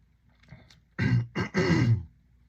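A person clears their throat and coughs in three rough, close bursts, the last one longest, then silence.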